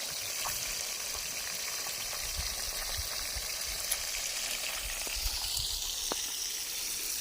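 Oil crackles and sizzles steadily with fish frying in it, a dense hiss broken by occasional louder pops.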